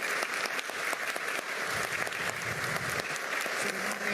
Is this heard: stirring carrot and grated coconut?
no